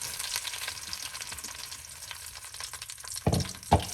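Beef shin sautéing in butter and oil in a slow cooker set to sauté mode, a steady close sizzle and crackle throughout, with a couple of louder clattering bumps near the end.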